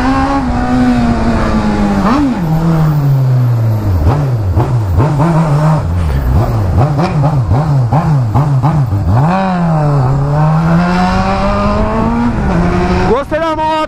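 A Honda Hornet motorcycle revs hard in a neighborhood street, its engine rising and falling in repeated throttle blips and sustained high revs, loud and close, with people talking over it.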